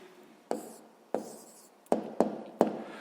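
Pen strokes tap and scratch on paper while an answer is written down, five short, sharp contacts each trailing into a soft scrape, close and alone.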